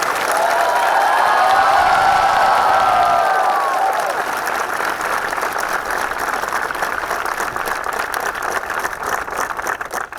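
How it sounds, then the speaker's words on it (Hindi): A large audience claps loudly and continuously for a batch of students celebrating their NIMCET 2023 results, the dense applause easing slightly after a few seconds but carrying on to the end. "ताली बजा लो और सारे"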